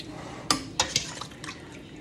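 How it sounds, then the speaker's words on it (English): Stew beef being scooped from a pot and placed into a pan, a few sharp metallic clinks of a utensil against cookware with wet sloppy sounds between them, close and brief. "I'm going to take the stew beef and scoop them out and put them over into"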